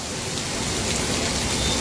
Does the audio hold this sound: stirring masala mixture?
no